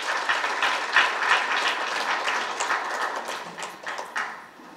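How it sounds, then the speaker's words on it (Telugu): An audience at a meditation centenary celebration applauds with a steady, moderately loud wash of clapping. Individual claps stand out occasionally, and the sound thins toward the end. "ఆ ప్రోగ్రాం ఒకసారి చప్పట్లతో మనం అభినందించుకోవాలి"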